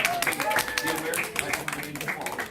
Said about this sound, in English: Everybody, let's give James a big round of applause for helping out